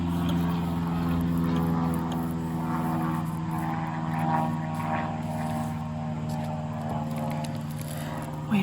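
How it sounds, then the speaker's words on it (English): A propeller airplane drones overhead, a steady low engine hum that rises and falls slightly as it passes, heard from indoors amid faint room sounds. "Wait for the plane to pass."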